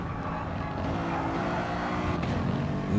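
Mercedes race car engine in GT Sport at Brands Hatch, a sustained droning roar at moderate distance with a steady pitch and slight swells, no voices.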